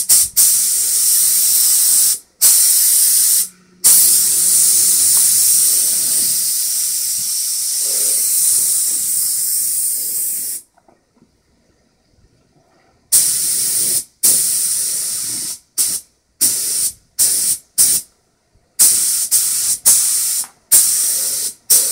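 A SPRAYIT SP 33,000 spray gun sprays clear coat on a GMC Terrain body panel with loud, close hissing bursts. Long passes at first give way to short, choppy triggers separated by silences.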